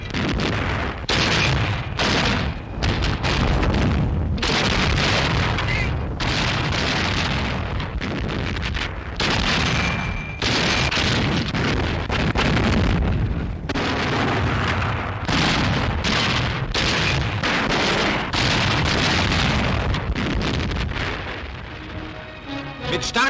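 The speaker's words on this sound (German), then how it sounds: "Erkannte Panzerbereitstellungen des Feindes werden von Artillerie und unseren Panzern unter Beschuss genommen." Loud, continuous WWII German newsreel battle footage of artillery and tank fire, with repeated heavy booms and blasts packed close together over a dense rumbling roar, no talking.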